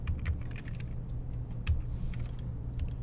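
Computer keyboard being tapped at close range during 3D texturing work: a quick, irregular run of light key clicks with a few firmer presses, alone over a quiet room hum.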